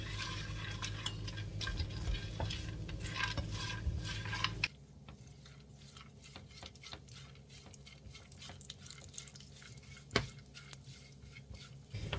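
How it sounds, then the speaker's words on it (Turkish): Walnuts are roasted in a pan for a Cretan meze with sun-dried tomatoes, rattling and scraping as they are stirred close by, first under a louder sizzling hiss, then in quieter clicks with one sharp knock. "Cevizlerimizi ekliyorum. Güzelce kokuları çıkana kadar kavuracağım."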